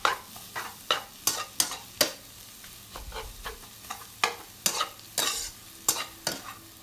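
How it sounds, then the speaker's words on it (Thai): Mama instant noodles being stir-fried in a pan, with repeated sharp scraping strokes of a utensil in a quick, uneven rhythm over a soft background sizzle. "จะผัดคลุกเคล้าค่ะให้เข้ากัน"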